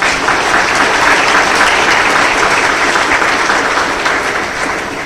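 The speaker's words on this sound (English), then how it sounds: "I think you should give yourself a round of applause" Sustained applause from a large business conference audience at an American Chamber of Commerce annual members' meeting, a thick even roar of many hands clapping close and loud, easing slightly at the end.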